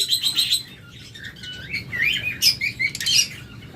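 A pet lovebird and budgerigar pair chirp up close, with bursts of bright, rapid tweets and trills in short clusters over a faint background hum.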